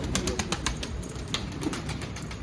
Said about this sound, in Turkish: Bir kuş.